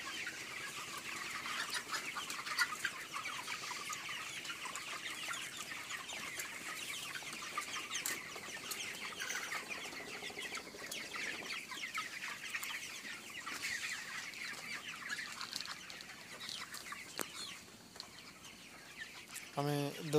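Chickens clucking in a modern poultry farm house in winter, a steady crowd of soft overlapping clucks and calls carrying on throughout at moderate level with no talk.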